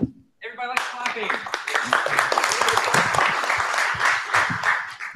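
A workshop audience at a W3C blockchain event breaks into dense, steady clapping right after a short spoken phrase. The applause stays loud and sustained for several seconds, with a voice briefly audible beneath it.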